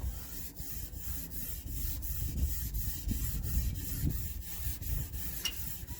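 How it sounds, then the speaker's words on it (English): Rhythmic rubbing strokes of wet sanding along the edges of 1980 Chevrolet C10 dash trim, a quiet regular back-and-forth scrape repeating about twice per second, close by and without talk. "I'm trying to sand down these edges"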